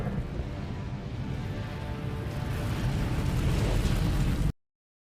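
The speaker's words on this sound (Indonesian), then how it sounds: "Stan lalu jatuh tepat di reaktor dan ledakan susulan pun terjadi." Explosion at a reactor in the 2008 Iron Man film, a sustained deep rumbling roar that builds slightly in intensity before cutting off abruptly, loud and without voices.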